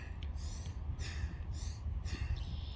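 A martial arts breathing exercise, the Buddhist breath: three or four forceful, hissing breaths at a steady interval, close and clear over a quiet room hum.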